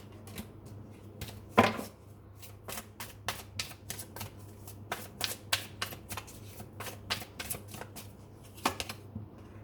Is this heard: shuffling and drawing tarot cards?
yes